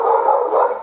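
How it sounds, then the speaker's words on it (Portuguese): A female dog gives a short, sustained vocal bark-like call close by, one continuous voiced sound lasting under a second, loud and alone with no talk. "Ela é uma cachorra, ela gosta de conversar"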